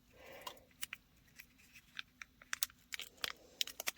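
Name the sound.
cutting open toy packaging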